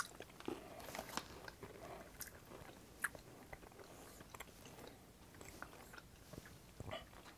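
Crunchy biting and chewing of a cola-flavored candy, close and quiet, with irregular small cracks and soft mouth sounds over a low background hiss.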